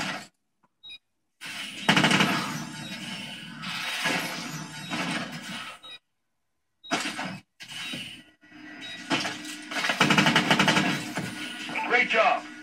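EPM3 weapon fire in a Call of Duty Advanced Warfare Search and Destroy match comes in short, sharp bursts separated by silent gaps, with glassy impacts and game voices mixed in.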